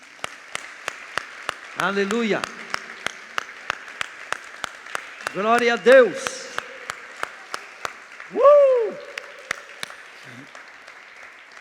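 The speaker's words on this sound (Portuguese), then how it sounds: "Vamos dar uma salva de palmas para Jesus?" A church congregation claps in a steady, evenly spaced rhythm for Jesus, crisp claps continuing throughout while voices shout praises loudly over them.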